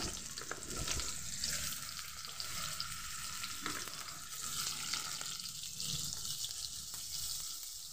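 Two cut, washed potatoes frying in hot oil with five-spice tempering, a steady broadband sizzle holding at moderate loudness for the whole stretch, with no voices.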